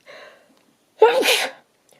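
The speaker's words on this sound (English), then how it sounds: "excuse me, I'm going to sneeze." A brief soft murmur, a pause, then one sharp, loud sneeze close by, fading quickly into silence.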